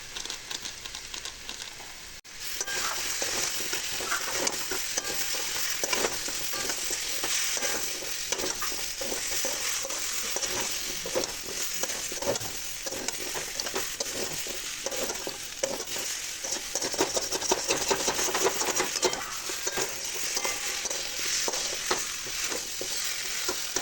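Pea filling for kachori being stirred and sautéed in a pan, a dense continuous sizzle broken by rapid scraping strokes of the spoon throughout, close and fairly loud with no talk.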